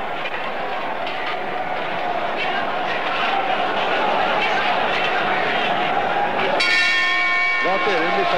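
A boxing match gong in a 1986 Brazilian film rings out once near the end, a loud metallic clang with a long shimmering decay, after several seconds of crowd noise and an announcer talking.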